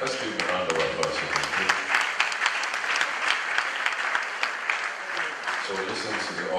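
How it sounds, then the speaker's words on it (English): Mourners at a Christian wake give a round of applause, with uneven, crackling hand claps spread through the room and voices talking beneath the clapping. "Let's give a round of applause."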